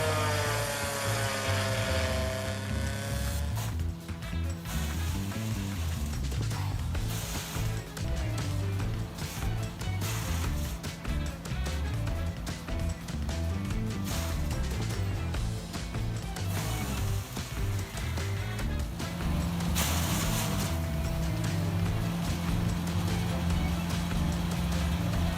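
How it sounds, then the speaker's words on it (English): A Pezzolato PTH 1000M drum wood chipper with a 656 horsepower engine shreds large volumes of wood, a loud continuous engine roar with rumbling, crunching bursts throughout, heavy and close. "The Pezzolato PTH 1000M drum 656 horsepower, allowing efficient processing of large volumes of wood"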